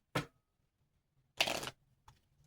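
Tarot cards being shuffled by hand, two separate papery riffling bursts, the second longer and louder, followed by a faint brief flick, all close and quiet with no talking.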